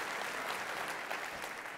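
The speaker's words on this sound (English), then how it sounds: "That's the first clap of the day." An audience at a corporate opening keynote claps together, a soft, even wash of many hands from a distance with no voices over it.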